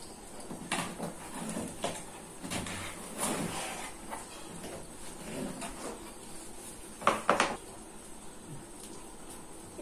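An Asus VivoBook 14 (2020) laptop box is opened indoors: faint cardboard scrapes and sliding rustles, then a couple of sharper clacks and thumps near the end.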